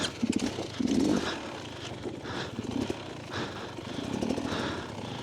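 Cross trainer dirt bike engine struggling to idle at an eight-hour enduro event, a close, uneven putter with irregular revving surges and dips throughout, no talk.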